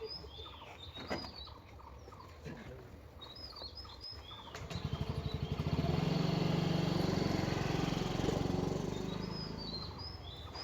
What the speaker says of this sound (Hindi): अभी मैं थोड़ा राइड करके आता हूँ और साउंड आता है कि नहीं आप लोगों को बताता हूँ आके।